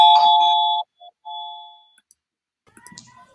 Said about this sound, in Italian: visto che entriamo in casa sua, direi che dobbiamo suonare il campanello